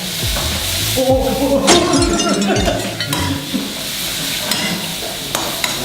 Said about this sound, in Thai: ผัดจนสลดผัดจนนิ่มไปเลยนะครับผม